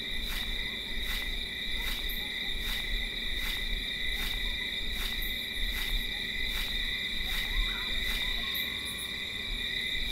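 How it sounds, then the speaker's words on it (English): Cicadas chirp at night in the horror video game RAKE, a continuous shrill drone pulsing in regular beats about every two-thirds of a second, loud and steady, with no talking. "What's with the cicadas?"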